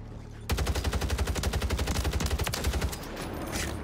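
Renetti gunfire in the video game Warzone, a loud, fast, evenly spaced burst of automatic shots that starts abruptly and runs for about two and a half seconds before fading into background noise.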